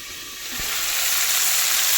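Cauliflower florets fry in a covered pan with a steady, broad sizzle that swells slightly and holds, close and continuous, with one brief low thump near the start and no voices.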